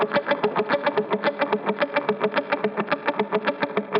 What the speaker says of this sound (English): You can hear the percussion, right? Especially since they're muted.